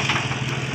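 Diesel engine of a 1985 Massey Ferguson 240 tractor idling just after starting, a steady close rumble with a faint knocking pulse, brief and without talk.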